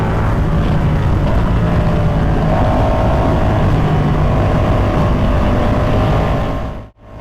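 A Ducati motorcycle engine drones steadily while being ridden along a California road, with loud constant wind rush and engine noise and a slight rise in pitch. The sound drops out abruptly at the very end.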